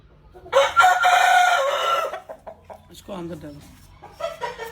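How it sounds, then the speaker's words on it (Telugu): A rooster crows loudly in one long, drawn-out call, followed by softer clucking from hens nearby, with some faint background noise. "నేను నా దొడ్లో కోళ్ళని చూపిస్తా"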